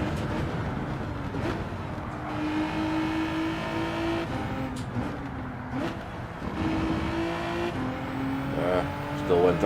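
A race car in the Gran Turismo 7 game, on a daily race at the Nürburgring or Sardegna, holds a steady engine drone that rises and falls through gear changes. The engine runs under continuous game noise.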